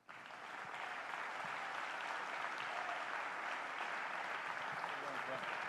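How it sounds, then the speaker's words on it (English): An audience at a clean water forum breaks into sustained applause to welcome a speaker, a steady wash of clapping that starts abruptly and holds at moderate level throughout. "hold your applause until the end of each candidate being on stage, with the exception of right now"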